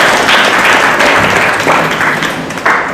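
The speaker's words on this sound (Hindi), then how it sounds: "ताली बजाकर प्रभु को महिमा दो।" Steady applause from a church congregation fills the clip, a dense wash of many hands clapping at once, loud and continuous with slight swells.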